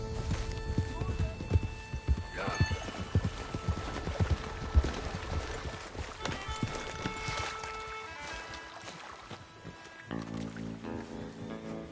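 Hooves clip-clop in a quick, steady gallop in Red Dead Redemption 2, amid a busy game soundscape with animal roars and music, voices talking over it, ending in a brief musical flourish.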